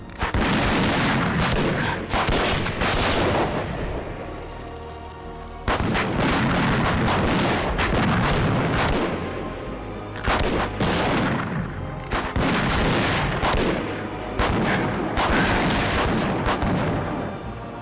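Gunfire in a Peter Pan film scene: loud, sustained volleys of rifle and cannon-like shots in dense bursts, with a brief lull in the middle before the barrage resumes, filling the whole stretch without talk.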